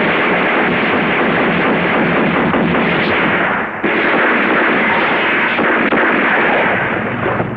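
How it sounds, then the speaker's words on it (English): Machine-gun ambush gunfire from the 1984 film Once Upon a Time in America: a dense, loud, continuous barrage of shots and blasts with barely a break. "double-cross the Mafia with a machine gun ambush"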